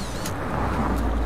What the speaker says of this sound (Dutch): Ook gauw komt er een auto voorbij.